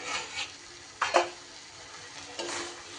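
Fried eggplant pieces are tipped into a spiced tomato masala for begun khasi and stirred: a quiet sizzle with a few distinct scraping strokes near the start, middle and end.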